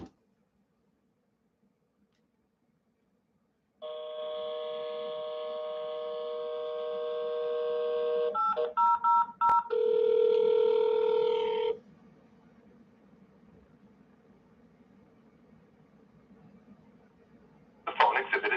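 Dial tones and DTMF-style tone bursts from an internal PBX line calling into a Comdial Interchange voicemail system, a steady loud tone block with stuttering breaks, then quieter line hiss and a brief final burst.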